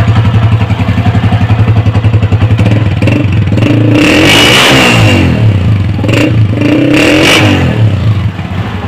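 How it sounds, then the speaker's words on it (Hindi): A 2010 Honda CG125 motorcycle with an old-model, non-Euro exhaust silencer idles with a rapid, even putter, then is revved several times in loud close bursts before settling back. "माशाल्लाह सिलेंसर का साउंड भी दोस्तों बहुत प्यारा साउंड है"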